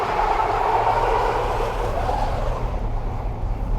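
A test car on a slippery winter surface with traction control off accelerates under full power, giving a steady, loud engine and drivetrain roar with continuous tyre noise and no talking.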